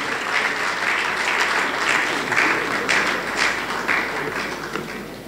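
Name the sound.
applause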